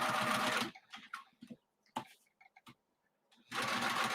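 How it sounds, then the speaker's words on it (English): A sewing machine stitches a bag corner in two loud running bursts at the start and end, with a pause between filled with faint clicks and handling sounds as the fabric is pivoted. "pivot 45 degrees and sew to the other corner"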